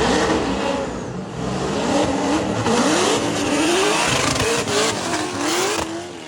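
Race car engine in a drift run on a motorsport circuit in tricky conditions, revving hard and continuously with rising and falling pitch sweeps, loud and close throughout.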